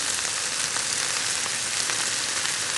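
Thin zucchini strips sizzle in a very hot pan, a loud, dense and continuous hiss that holds steady with no pauses.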